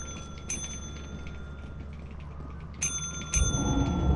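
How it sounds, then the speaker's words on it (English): A bell in Lethal Company rings three times in quick, sharp strikes over a low ambient hum, the last strike followed by a louder rumble. "That is a lesson in don't spam the bell too much"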